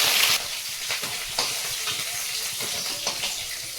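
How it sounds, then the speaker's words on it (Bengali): Fish frying in hot oil gives a close, continuous sizzle and hiss, with faint stirring and bubbling pops throughout. "তেলটা গরম হয়ে গেছে মাছগুলো দিয়ে দেবো"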